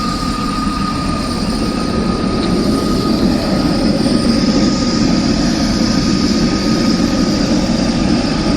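A train rolls past at very close range, a loud continuous roar of rail cars with a steady high wheel squeal running throughout, no voices over it.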